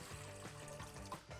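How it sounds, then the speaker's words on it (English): Warm water pours from a cup into a stand mixer bowl, a steady trickling splash with a ringing tone from the bowl, close and fairly quiet under faint background music. "to this I'm gonna add some water that's nice and warm, which is really gonna help activate our yeast"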